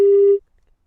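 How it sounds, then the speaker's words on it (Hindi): A single steady telephone tone sounds loudly on a dropped call during a Hindi news broadcast, holding for under half a second before cutting to silence. "चलिए फोन कट गया है"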